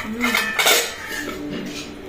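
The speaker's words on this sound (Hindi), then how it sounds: "बाबू जो बर्तन लेके खेल रहा है" Metal utensils, pots and pans clatter and clink as a small child plays with them at home, with a few quick bursts of banging at close range.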